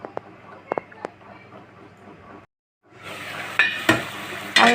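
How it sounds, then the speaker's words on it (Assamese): Food frying and being stirred in a pan, a low steady sizzle with a few sharp clinks early on, a brief silence, then louder scraping and sizzling with spatula knocks. "আৰু এইখিনি মই অলপ দেৰি ভাজিম।"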